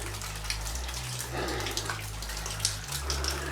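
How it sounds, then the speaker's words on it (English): Water dripping and splashing steadily inside an 1895-era underground ore mine, fed by an underground spring above, like rain falling indoors, over a low constant hum. "So it's raining inside the mine."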